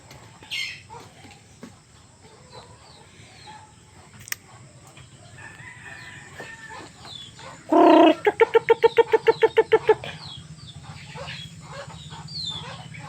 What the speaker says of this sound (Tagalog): Ayun ang lumapit ng mga manok natin.